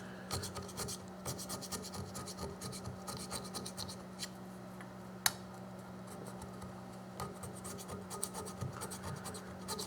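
A thumb rubs old gasket material off a soft aluminum timing cover on a 1995 Oldsmobile 3800 engine, giving a steady faint scratchy rasp with one sharp tick partway through.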